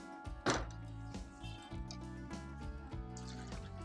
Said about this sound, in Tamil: இதில் 3 கப்பு நம்ம தண்ணியை இதில் ஊற்றுறோம்